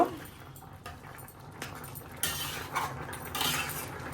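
Curry being stirred in a cooking pot with a metal spoon, with close, intermittent scraping and clinking against the pot's sides amid a faint kitchen background.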